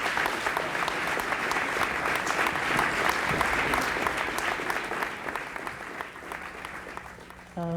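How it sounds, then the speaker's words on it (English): A studio audience breaks into loud, sustained applause that gradually thins out before music enters at the very end. "Let's hear it for Dave Harrison and Jeff Cochran."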